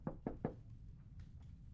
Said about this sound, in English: looking office and knocks on the door.